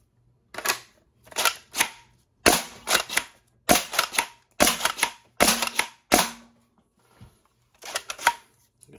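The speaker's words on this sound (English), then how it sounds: "I'm gonna shoot across the room a little bit now." An Alchemist toy blaster fires about nine sharp snapping shots in quick bursts, each with a brief mechanical rattle and short gaps of silence between, loud and close with no talking.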